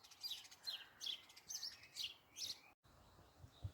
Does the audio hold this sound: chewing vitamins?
no